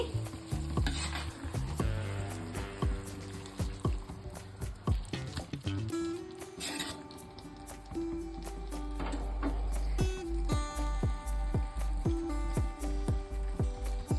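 A spoon scrapes and clanks repeatedly against a pan while gravy and meat pieces for Pondicherry thoku biryani are turned, sharp metallic strikes over a rising sizzle, close and loud, no talking.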